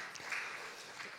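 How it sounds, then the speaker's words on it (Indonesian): Church congregation applauding during a worship service, a brief steady wash of clapping at moderate level with no voices over it. "Mari kita beri tepuk tangan buat Tuhan Yesus saudara"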